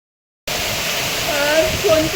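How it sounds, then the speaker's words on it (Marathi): Heavy first monsoon rain in the Konkan region pours down as a steady, dense roar after a sudden start, with water splashing and gurgling close by and faint tonal sounds running underneath. "बघा एवढा पाऊस पडायला लागलाय की पाणी पण आलंय पावसाळीवरून."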